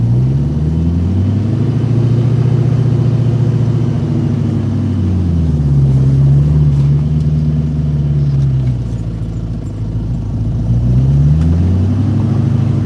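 A 1968 Ford Mustang with a manual gearbox drives along, its engine droning loud and close, the pitch rising and falling through gear changes with no voices over it.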